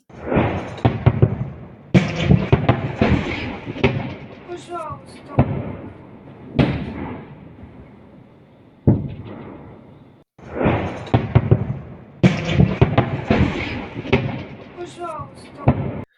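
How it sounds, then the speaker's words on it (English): Artillery shells explode in wartime footage, a series of heavy booms with sharp onsets and rumbling tails spread across the stretch, mixed with voices talking. "I heard at least a dozen shells going off in that video."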